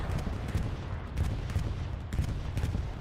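A bombing run in the multiplayer shooter Hell Let Loose during a North America versus Spain match, heard as a dense, sustained rumble of heavy explosions and gunfire with repeated low thuds across the whole stretch.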